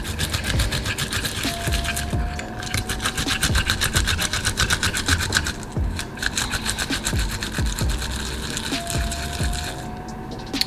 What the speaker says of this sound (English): Now, garlic, my trusty little grater.